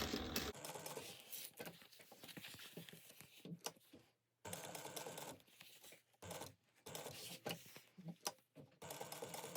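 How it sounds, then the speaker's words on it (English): A sewing machine stitches around a laptop bag, running in several bursts with short pauses between passes; the whirring is close and clear, with no talking. "We're going to sew around this and so across there and down and around."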